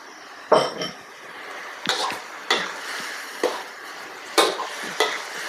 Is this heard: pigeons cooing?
no